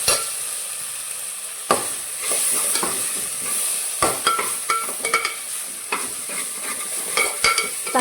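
Onion and mint fry in a pan, a continuous sizzle broken by scraping stirs and light clinks of the spoon against the pan, close and fairly loud with no talk.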